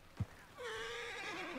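A horse in Red Dead Online lets out one loud, wavering neigh that rises and trembles for about a second after a short thump, alone and up close.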